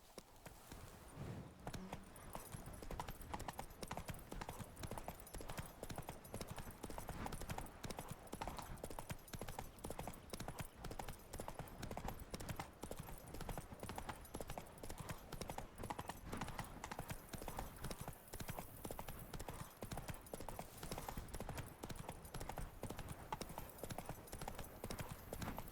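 Horse hooves clip-clop steadily and continuously in The Witcher 3, a close, rhythmic trot that runs throughout with a brief whinny near the start and no talk over it.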